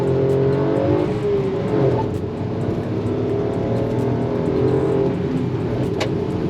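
A Maruti Celerio with a 998 cc 1-litre K10C engine accelerates at full throttle, its engine droning loud and close with a rising note that holds steady throughout, with no talking.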